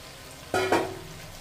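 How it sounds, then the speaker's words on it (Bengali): Boiled chickpeas being stirred into a spiced potato-tomato curry make a short, close scrape and sizzle lasting under a second, with no speech. "ছোলাগুলো দিয়ে একটু নেড়ে চেড়ে নেব"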